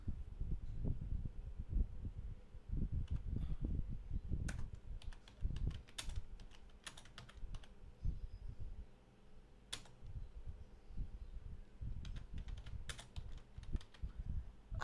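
Keys clatter on a computer keyboard while a Facebook post is typed, a quick irregular run of soft clicks with short pauses, close and steady over a faint background hum, with no talking.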